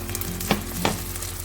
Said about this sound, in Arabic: شوفوا بنات البصل مالتي تكرملت.